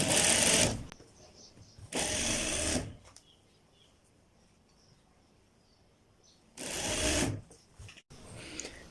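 A sewing machine stitches the fitting seam of a shirt in three loud, close bursts of rapid mechanical whirring, separated by quieter pauses filled with faint handling sounds.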